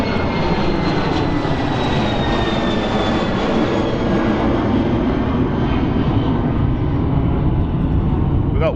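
A fixed-wing airliner landing at London City Airport on runway 7 gives a loud, steady engine roar with a faint descending whine, continuous throughout and close by.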